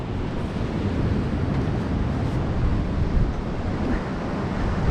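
Stormy sea at Bugaz in Crimea, a loud, dense roar of crashing surf mixed with heavy wind buffeting the microphone throughout.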